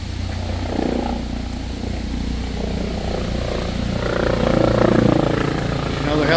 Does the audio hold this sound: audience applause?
no